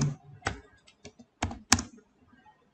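Typing on a computer keyboard while writing HTML and CSS code for a website: a few sharp, close keystrokes land in scattered bursts with short quiet gaps, no voice.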